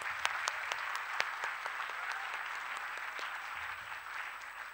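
A large audience at a speech contest's shield distribution ceremony applauds steadily, a dense wash of many hands clapping with a few sharper claps standing out, sustained and fairly loud throughout.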